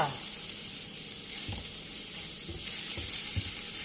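Bamboo shoots stir-fried in a hot pan, with a steady close hiss of frying and a few soft scraping knocks from stirring, no talk.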